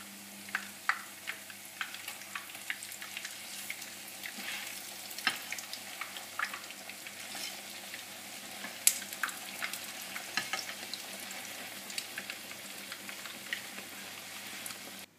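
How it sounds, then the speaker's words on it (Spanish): Eggplant slices fry in plenty of very hot oil, a soft, continuous sizzle dotted with small crackles and pops, close but fairly quiet, with no talking. "las vamos a freír en abundante aceite que esté bastante caliente"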